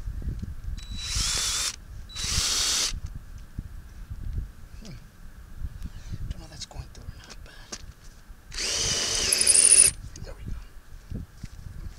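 A power drill drives screws into carpet on a boat trailer in three loud whirring bursts, two short ones close together and a longer one later, with someone talking in between.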